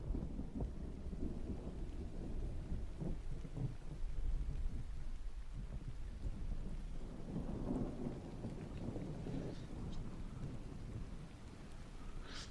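A thunderstorm rumbles with low rolling thunder over a continuous bed of rain pattering on surfaces. The storm swells and eases across the stretch, with no voices present.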